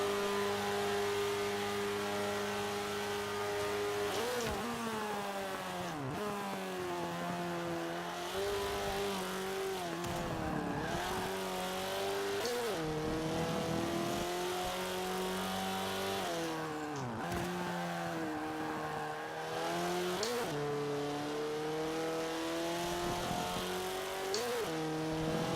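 A racing car engine in a video game revs steadily and loudly throughout, with repeated pitch sweeps as it shifts up and down through the gears and no talking.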